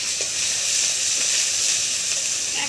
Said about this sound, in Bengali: একসঙ্গে এবার মশলাটা ভালো করে কষে নেব।